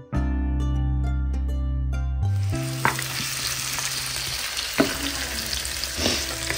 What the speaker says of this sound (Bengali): আমি ফ্রাই করে নিচ্ছি এগুলো।